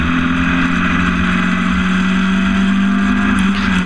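Historic Formula Ford race cars at Snetterton, a loud steady engine drone holding a constant pitch throughout, close and sustained, with no talk.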